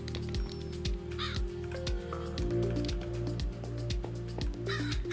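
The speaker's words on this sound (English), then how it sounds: "It sounds like there's a crow stuck in the house as well." A crow caws repeatedly in modded Minecraft, steady and fairly close over a rhythmic, droning game background with no talking.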